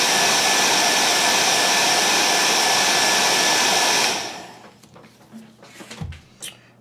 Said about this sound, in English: And then cheat, hit with the heat gun.